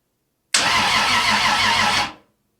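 A 2JZ engine swapped into a 1978 Datsun 280z cranks over on an old used starter for about a second and a half, a loud steady churning whir that stops abruptly, with no talk.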